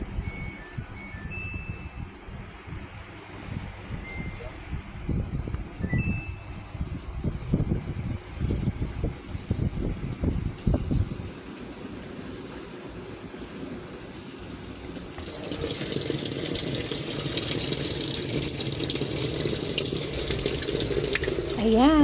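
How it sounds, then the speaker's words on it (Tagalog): Water pouring into a washing machine drum during cleaning, a steady broadband rush that continues throughout and grows louder and brighter in the second half, heard up close with mechanical background noise. "Ayan, nag-iipon na siya ng tubig."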